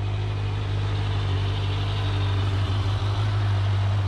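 A Kawasaki Z900 motorcycle engine idles steadily and close by, a low, even hum with a strong steady drone and no talking.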